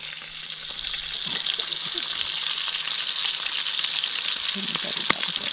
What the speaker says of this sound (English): I could hear the bacon sizzling all the way down the creek